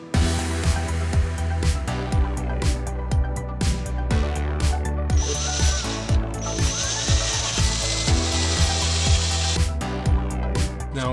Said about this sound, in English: Put it on the drill press, that way it's straight up and down.